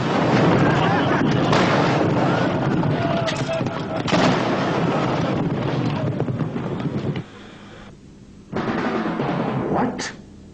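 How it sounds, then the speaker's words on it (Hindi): Artillery gun firing during a battle scene, a loud sustained blast with rumbling roar that dies away briefly and then returns with a further burst, heavy and close throughout. "वन राउंड गन फायर कराओ।"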